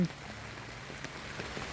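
Steady rain patters down outdoors during a storm, a constant broadband hiss with scattered drop hits near a rural farm garden; it runs quiet and unbroken with no voices over it.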